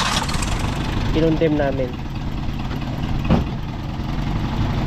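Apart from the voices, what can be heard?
Toyota 5K engine idling low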